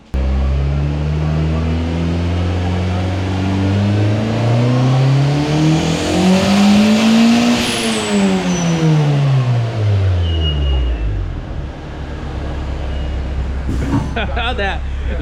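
A turbocharged Honda CRX on a dyno revs loudly, engine note climbing steeply then falling, with a blow-off valve whoosh as it drops, then settling back to idle, close and dominant.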